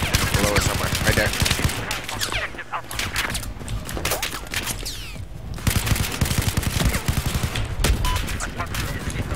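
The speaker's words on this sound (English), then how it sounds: "whipped out the RPG, and shot the attack heli" Video game battle in which an RPG is fired at an attack helicopter amid dense, loud, continuous gunfire and explosive bursts, with voices talking over the din.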